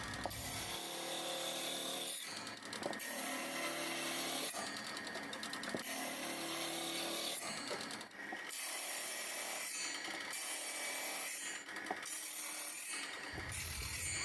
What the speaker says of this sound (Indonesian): untuk membuat burusnya ini saya memakai gergaji meja seperti ini